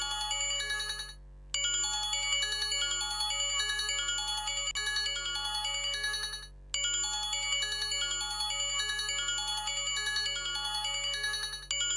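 A phone ringtone plays in a Telugu TV serial scene: a loud, close, repeating electronic melody that runs continuously with two brief pauses, and no talking.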